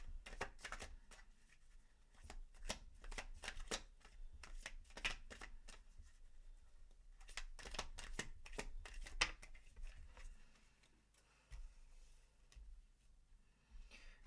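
Tarot cards being shuffled and drawn, with repeated close riffling and flicking bursts, short pauses between them and softer card slides toward the end.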